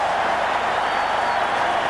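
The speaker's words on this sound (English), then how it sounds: "The crowd love it." A rugby league crowd at Brookvale during a Manly-Warringah Sea Eagles match against the Newcastle Knights roars in a steady, dense wall of cheering and clapping that holds at an even level throughout.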